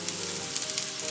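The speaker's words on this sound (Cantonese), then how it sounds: "我哋要攞去煎㗎啦噃。 我哋要俾啲油或者鑊1湯匙嘅油啊，然後就將呢啲排落隻鑊嗰度。" Vegetable and meat dumplings pan-fry in about a tablespoon of oil in a wok, giving a steady, close, hissing sizzle with no talk.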